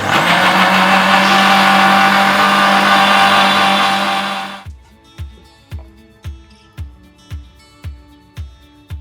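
A kitchen mixer grinder blends ash gourd with coconut, its motor whirring loudly and steadily for about four and a half seconds before cutting off into a run of regular, short thumping pulses.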